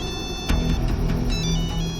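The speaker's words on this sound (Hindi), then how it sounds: "फोन की आवाज सुनाई दे रही है।" A mobile phone rings somewhere nearby with a steady electronic ringtone, its tonal pulses repeating over a murky background with no talk.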